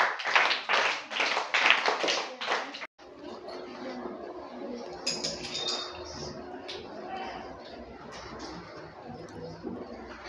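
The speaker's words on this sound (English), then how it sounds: "Once again claps for Lashwita." A brief run of about half a dozen quick, sharp claps for a student named Lashwita in a Vedic maths class, followed by quiet room noise and faint chatter.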